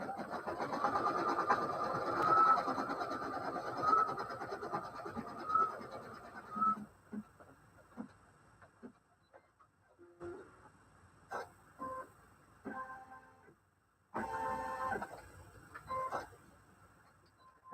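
An embroidery machine sews a tack down stitch, giving a fast, even mechanical chatter for about seven seconds. Quieter intermittent ticks and clunks follow, then a brief renewed burst of machine noise near the end.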